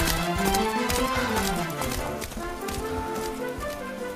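Horse hooves clip-clopping in the video game Dragon Quest XI, a quick rhythmic trot under a continuous music score, with a short neigh woven in.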